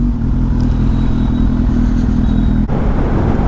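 A Kawasaki Z800 motorcycle riding with a passenger on the back, heading toward Bhavanisagar Dam, gives a loud, steady engine drone with a brief dip near the end, heard close with wind rush.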